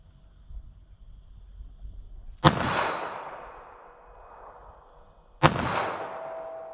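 Two sharp compact-handgun shots into a ballistic gel target, about three seconds apart, each a loud close crack with a ringing metallic tail fading out, low background noise between.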